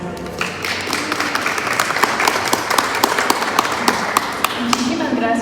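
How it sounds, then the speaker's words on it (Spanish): A theatre audience applauds at the close of a staged poetry-and-drama performance, dense clapping spread across the room with sharp individual claps standing out, steady and fairly loud, with a few voices mixed in. "Démosle un fuerte aplauso a las autoras."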